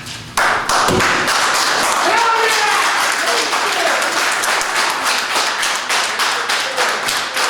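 Loud, sustained applause from a city council meeting crowd, dense clapping that starts abruptly and carries on steadily for several seconds.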